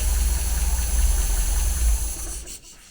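An MGB engine fitted with twin SU carburettors runs at a steady low idle with a rhythmic throb, then falters and drops away as it cuts out.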